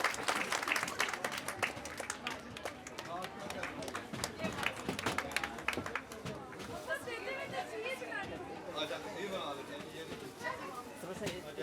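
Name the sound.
audience applause at school prize ceremony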